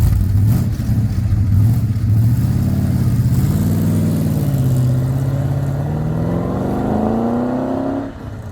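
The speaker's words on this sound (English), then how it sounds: "We'll just do a couple of passes so you can hear this car go up and back" A black 1971 Ford XY Falcon GT-HO Phase 3 replica with gold stripes drives past with a deep, loud, throaty engine burble that climbs steadily in pitch as the car accelerates by. No one speaks.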